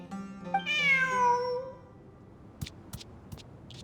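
A cat in Genshin Impact gives one drawn-out, rising-then-falling meow, followed by a few faint clicks and taps in the quiet background.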